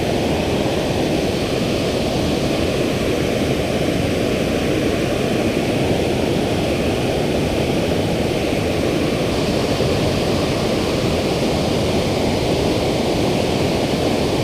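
Waterfall at a river spillway, a dense, steady roar of falling water that stays loud and unchanging the whole time, heard close with no voices.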